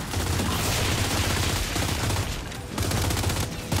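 Dense, continuous automatic gunfire in the shooter game Gears 5, loud and close, rattling on almost without pause with one brief break near the end.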